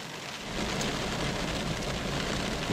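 Approaching rain shower during an August thunderstorm, a steady broadband hiss of rain that suddenly thickens and grows louder after a moment, then stays dense and continuous with no voices.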